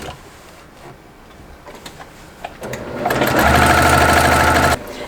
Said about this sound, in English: I'm going to stitch down to 1/4 of an inch away from the edge of the cornerstone